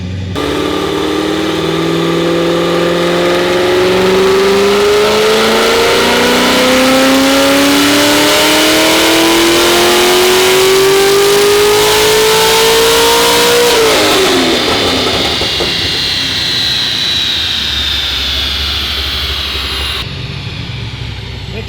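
A naturally aspirated LS7 V8 in a C6 Corvette Z06, running on pump gas, pulls hard on a chassis dyno. The engine roar climbs steadily in pitch for about thirteen seconds, then cuts off and winds down.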